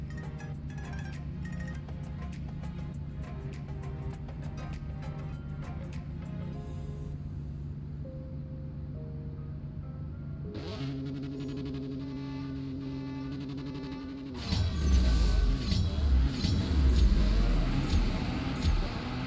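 A Pagani Imola makes a test run in the CSR Racing 2 game. The engine note climbs through rising revs with several gear changes, then ends in a louder, rougher roar.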